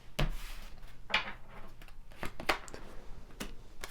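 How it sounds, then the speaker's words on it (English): Tarot cards shuffled by hand in a few irregular riffling bursts with soft taps and slides between them, close and fairly quiet. "One more shuffle."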